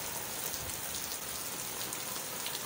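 Steady rain pours down, a dense, even hiss of drops striking surfaces close by, heard from a house gate, with no voices.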